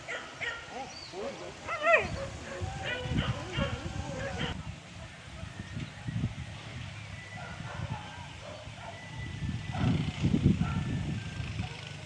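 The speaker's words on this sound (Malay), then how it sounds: "Mana anjing ni po?" Dogs on a pig hunt in the countryside give yips, whimpers and short barks in bursts, mixed with people talking and outdoor noise, the dog sounds clustering early and near the end.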